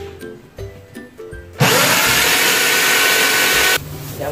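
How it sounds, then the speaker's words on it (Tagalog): A power drill bores a pilot hole in wood while window blinds are being installed, a loud steady whine running for about two seconds alone after softer knocking and handling noises. "butasin na natin."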